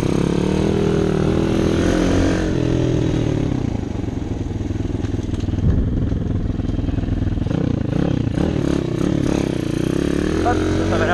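A Bastos Dirt 140 dirt bike from 2018, still in break-in, drones steadily while being ridden, a loud continuous engine buzz with wind noise and small rises in pitch as the throttle shifts.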